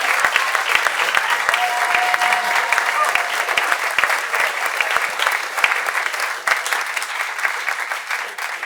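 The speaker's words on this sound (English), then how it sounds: "a quick round of applause for our guests tonight" A live-show audience at City Winery in New York gives its guests a round of applause: loud, dense, sustained clapping filling the room from start to finish, with no voices over it.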